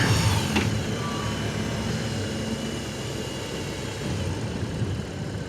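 A Ducati motorcycle engine running steadily during a group church ride, a continuous broad rumble and hum close by, moderately loud with no talking.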